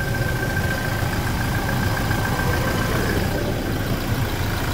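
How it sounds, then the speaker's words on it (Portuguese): A 2016 Toyota Hilux 2.8 diesel engine idles steadily with a low, even rumble and a faint whine above it, with no voices. "Olha o funcionamento do motor."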